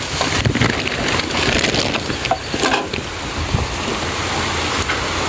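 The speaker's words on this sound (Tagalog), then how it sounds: "naabutan tayo ng ulan" Steady rain falls on a house under construction with an unfinished roof, a continuous broadband patter with some wind, close and fairly loud throughout, with no talking.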